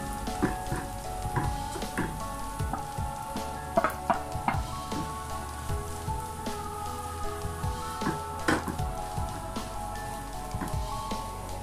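Onions sautéing in a pan for a Kerala-style kusa thoran: steady close sizzling and crackling with frequent bright pops and spatters, an even frying hiss throughout with no voices.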